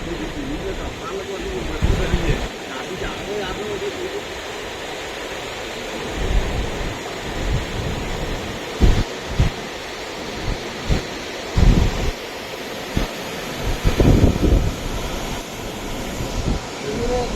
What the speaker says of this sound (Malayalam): ഇവിടെയും വെള്ളം പുറത്തേക്ക് ഒഴുകുകയാണ്